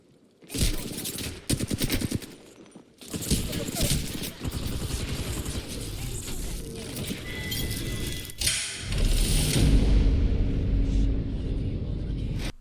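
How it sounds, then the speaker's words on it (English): Rapid bursts of automatic gunfire in the Apex Legends battle royale, loud rattling volleys separated by short gaps, then a longer sustained stretch of shooting and rumble. "I'm getting shot at."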